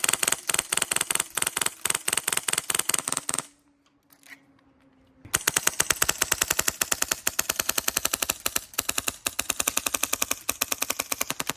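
A 3D printed airsoft SMG fires rapid full-auto bursts, a dense mechanical rattle of closely spaced clicks, briefly pausing midway before a longer continuous stream resumes.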